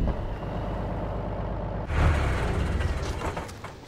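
A helicopter in the video game Arma 2 DayZ approaches as a low mechanical rotor drone, suddenly swelling louder partway through and holding a continuous throbbing rumble.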